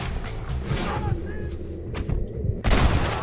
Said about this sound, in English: I keep on shooting his gun.